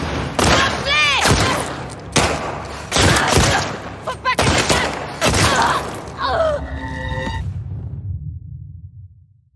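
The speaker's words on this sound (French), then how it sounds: "D'où ces coups de feu?" Gunfire in the video game The Last of Us Part II: several heavy, booming shots in irregular bursts with echoing tails, then a ringing, fading tone and silence; in-game voices briefly talk amid the shots.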